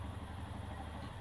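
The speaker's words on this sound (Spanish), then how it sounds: "Aceleramos acá. Perfecta. Vemos que baje correctamente las RPM y que quede perfecta esta moto." A Royal Enfield Himalayan motorcycle engine, suffering power loss and heavy fuel use from bad tuning, settles into a steady, close, rhythmic idle with a low, even thumping beat.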